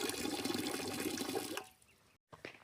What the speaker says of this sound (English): And a faucet that people said is finicky.